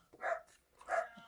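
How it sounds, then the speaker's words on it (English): An old dog barks indoors, two short, muffled woofs about half a second apart, fairly quiet and close with nothing else around them. "So apologies if you can hear her barking."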